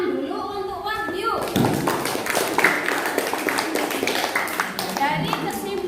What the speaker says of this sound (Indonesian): Oke, tepuk tangan dulu untuk Wahyu